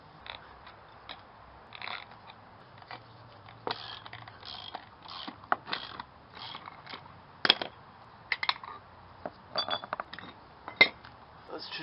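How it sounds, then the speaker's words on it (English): A ratchet turns a press tool to push a control arm bushing out on a Toyota RAV4, giving faint irregular clicking and mechanical clanks, with soft background noise between the strokes. "Put your ratchet or breaker bar on it now."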